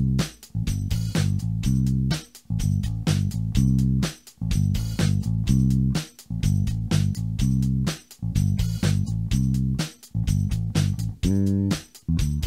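Soul bass guitar riff, built on a two-bar groove and played with a drum kit: loud, steady repeating phrases with regular short gaps, no talking.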